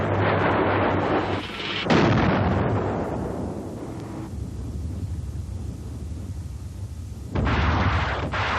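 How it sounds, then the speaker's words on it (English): A Durandal rocket-propelled bomb bursting deep beneath an airfield's concrete runway, a heavy booming blast that rolls off into a long low rumble, followed by a second dull thump near the end. "Propelled by a rocket, it bores through the concrete and explodes deep underneath several seconds after impact."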